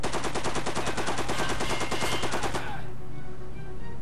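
Rapid automatic gunfire in the tactical game Silent Storm, a dense, loud, evenly spaced burst of roughly two dozen shots that stops abruptly, leaving a brief quiet tail.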